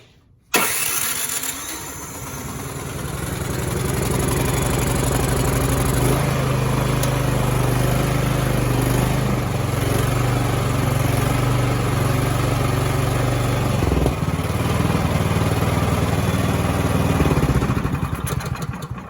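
A Craftsman snow thrower engine, started in about 40-degree weather, catches after a brief pull and then runs at a loud, steady idle close by, its rumble holding throughout.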